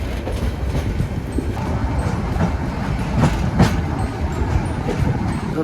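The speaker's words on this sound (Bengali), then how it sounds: "আমাদের ট্রেন ঝক ঝক করে চলে যাচ্ছে সামনের দিকে" A passenger train runs along the Dohazari to Cox's Bazar line, heard from on board as a loud, continuous rumble with recurring clickety-clack of wheels over rail joints.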